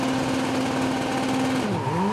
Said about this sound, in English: Ready to race, lights are on. Revs are up, here we go.